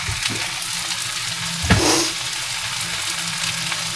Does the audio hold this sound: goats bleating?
no